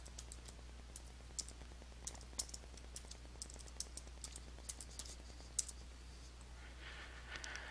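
A computer keyboard is typed on quietly while entering a company name into accounting software, a long string of light irregular clicks with a few sharper taps over a faint electrical hum.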